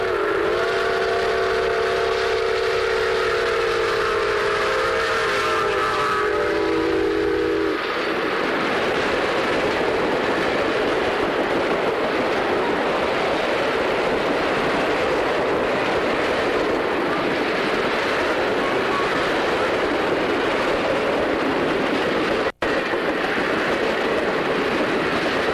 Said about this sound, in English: We're back at Thomas Viaduct as we watch 614 highball her train into Relay